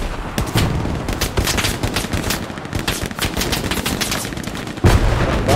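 Machine gun fire in Hell Let Loose, a wartime shooter, comes as loud, close rapid bursts in rough rhythm, with a heavier shot or blast near the end and no talk.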